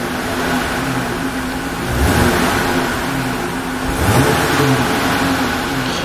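A 2022 Jeep Gladiator Rubicon's V6 engine idles with a low rumble, then revs twice in quick succession, each blip swelling and falling back, heard up close and loud.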